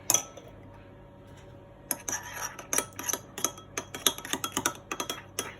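Spiced shawarma marinade with cayenne pepper being mixed in a bowl, giving quick, busy clinks and scrapes of a utensil against the bowl after a brief quiet start, close and rhythmic.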